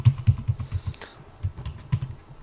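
A password being typed on a computer keyboard during setup of a Hikvision PoE mini PTZ camera: a quick run of close, soft key clicks with brief pauses, alone without talk.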